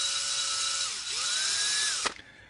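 A small hand drill with a 1/16 inch bit clearing powder from holes in white strong flexible 3D printed plastic parts, a high whining motor that dips and rises in pitch, then stops abruptly with a short clunk.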